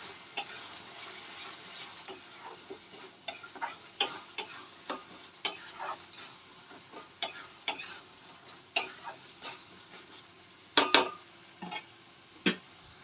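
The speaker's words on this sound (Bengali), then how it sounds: "মশলাটা আমি ভালো করে এবার কষিয়ে নেব।" Cumin-paste spice masala being stir-fried for a South Indian-style egg curry, with a soft steady sizzle broken by repeated sharp scrapes and taps of the spoon against the pan, fairly close and with no one talking.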